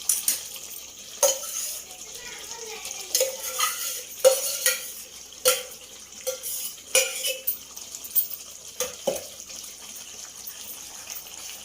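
Gongura leaves are tipped into simmering chicken gravy and stirred through, giving repeated scraping and clinking spoon strokes against the pot in an irregular rhythm, close and moderately loud, with no talking.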